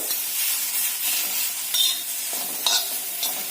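A spoon stirs a salted green chili mixture in a pan, giving a steady soft scraping hiss with a few louder clinks of metal on metal, close and with no talking.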